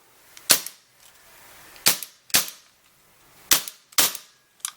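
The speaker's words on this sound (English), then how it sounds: "let's shoot this gun for you real quick here. I'm going to just shoot in standard. There's no BBs or anything in here." A KWC Mauser CO2 blowback airsoft pistol is dry-fired with no BBs loaded, giving five sharp, loud snapping shots in irregular succession, two of them close together, with quiet gaps between.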